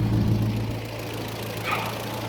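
The engine of a 1980 Land Rover Series 3 109 runs at a steady low idle close by, a rumbling hum with a brief higher mechanical note partway through.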